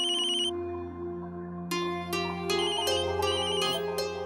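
A bright electronic ringtone repeats its melodic pattern over a sustained tone, loud and close, with no voices.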